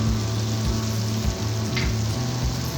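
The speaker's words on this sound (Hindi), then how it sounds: "इस तरह वाइट हो जाए तो इसके अंदर हम अनियन डालेंगे" Onions fry in a pan with a constant low sizzle beneath a droning, pulsing hum nearby.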